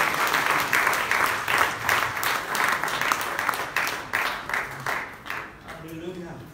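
Church congregation clapping in a rhythmic, pulsing beat during worship, a steady run of claps with voices mixed in that trail off toward the end.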